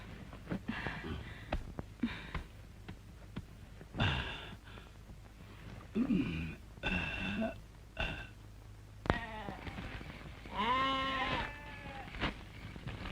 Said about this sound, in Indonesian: Dari tadi kambing kita ngebek terus